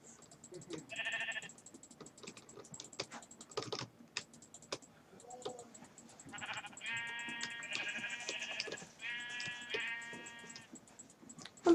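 Minecraft sheep bleating in a Superflat survival world, several harmonic bleats in bursts, some overlapping, mixed with rapid clicky keyboard typing throughout, no talking.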